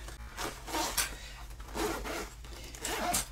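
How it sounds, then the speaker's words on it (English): A zipper on a fabric craft travel bag is pulled open in a few quick rasping runs, close and fairly quiet, with no talking. "go ahead and open up your zipper if you have not thus far"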